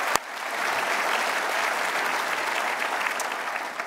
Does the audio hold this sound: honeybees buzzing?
no